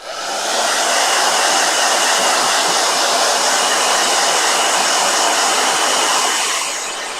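Blow dryer running loud and close as a constant, even whoosh for several seconds, with no talk.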